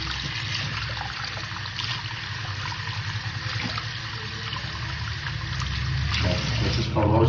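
A tap runs in an upstairs room of a rental house, pouring in a steady rushing stream that swells slightly louder toward the end, with no talking.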